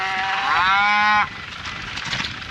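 A single long moo from cattle out in a grassy farm field, loud and close, with the drawn-out call rising and then cutting off abruptly, followed by quieter outdoor background noise.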